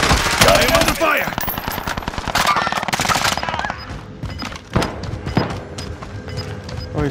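Rapid machine-gun bursts and scattered gunshots from a Call of Duty Warzone match on Rebirth Island, dense and loud at first, then thinning into sporadic booming shots with some players talking underneath.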